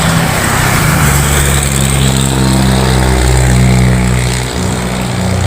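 A loaded FAW JH6 truck hauling a long steel cargo labours uphill, its diesel engine droning loud and steady at close range with a deep continuous rumble throughout, no voices.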